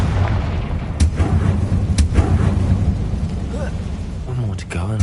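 A Confringo fire spell erupts in Hogwarts Legacy, several sharp booming bursts near 1 and 2 seconds over a dense wash of game music and noise, with a voice speaking near the end.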